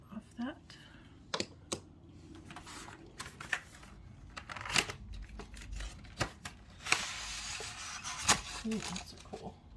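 Crinkly clicks and short crackling rustles come from a small piece of tape being picked and peeled off paint marker packaging, irregular and close, with quiet handling noise between them.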